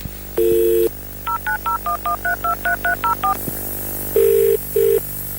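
A dial tone, then a quick run of about a dozen keypad tones in steady rhythm, followed by two short beeps; clear and close, no talking.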